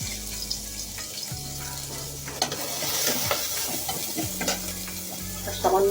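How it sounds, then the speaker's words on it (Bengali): A little onion sizzles in oil in a kadai, a steady close frying hiss with repeated stirring scrapes and clatters, no voices. "আমি একটু সামান্য পেঁয়াজ দিয়ে দিলাম।"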